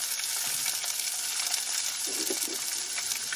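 Chopped onion sizzles in hot oil in a pan, a steady dense crackle that holds evenly throughout with no talking.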